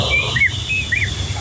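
A man whistles a short, high imitation of a white-rumped shama's song, a few sliding chirps repeated twice over a steady background hum.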